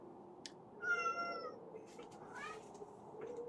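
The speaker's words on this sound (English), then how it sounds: "Cat is being very needy." A needy pet cat meows in a few drawn-out, wavering calls over a steady low hum, fairly close and moderately loud, with short gaps between cries.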